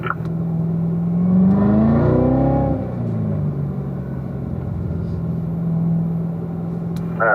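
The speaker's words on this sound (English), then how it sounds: "we can go ahead and run about 40 to 50 miles an hour here again" Car driving steadily at 40 to 50 mph in fourth gear, a loud continuous engine hum and road rumble that swells briefly as the engine note rises and falls, no voices.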